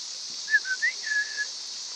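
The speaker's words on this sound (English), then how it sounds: "I whistle at them too all the time so they know who I am." A person whistles to swans in a short series of clear, fairly close tonal notes. The notes rise and glide over steady broadband background noise, with no talking.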